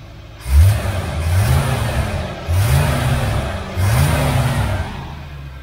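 A 1968 Chevelle Nomad V8, fed gas down the carburetor and running off a jump box, idles loud and close, rising in three or four throaty revs that swell and settle back between them.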